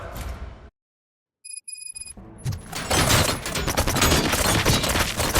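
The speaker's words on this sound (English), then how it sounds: "Gunshots? What's going on?" A burst of sound, a brief silence and a few electronic beeps, then dense, sustained rapid gunfire and explosions fill the rest, loud and chaotic, in the video game RoboCop: Rogue City.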